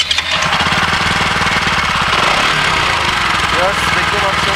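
A Keeway RKR 165 motorcycle engine, just self-started, runs loud and close with a steady, deep, rapid idle throb throughout.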